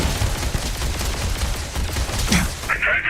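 Rapid gunfire in the sci-fi video game Starfield, a dense burst of repeated shots rattling continuously at close range, with a short electronic game tone near the end.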